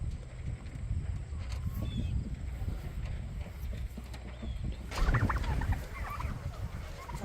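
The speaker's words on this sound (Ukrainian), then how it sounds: "Це наші індики маленькі." A flock of young turkeys peep and chirp softly under a busy rustling background, with scattered thumps and a louder stretch near the end.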